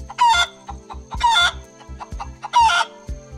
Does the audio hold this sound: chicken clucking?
yes